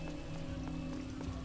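Steady rainfall in the video game L.A. Noire hisses continuously over a low musical drone, with faint drips scattered through the short stretch.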